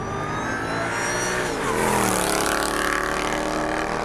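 A deep, throaty 5.4-liter naturally aspirated V8 of a Mercedes C55 AMG W203 growls close by, rising as it revs and then holding a rumbling roar.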